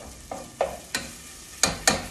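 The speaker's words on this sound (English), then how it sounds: "So I'm going to saute these until soft." Vegetables sautéing in a pan, heard as a few soft, separate stirring scrapes and light sizzles spaced irregularly over about two seconds, close and quiet, with no talking.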